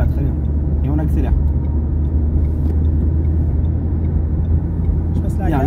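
Car engine in a driving-lesson vehicle, a loud, steady low rumble filling the cabin throughout, with an instructor speaking over it.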